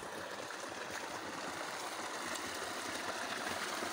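Steady, continuous water from a spring trickling and splashing close by, a constant broadband rush with no voices.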